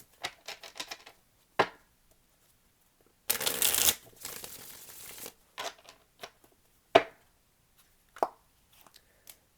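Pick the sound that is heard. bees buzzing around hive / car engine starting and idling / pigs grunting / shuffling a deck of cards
shuffling a deck of cards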